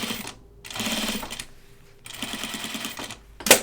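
A sewing machine stitches a shirt-dress collar in two long, steady runs with a short pause between them, loud and close, followed by a sharp clack at the end.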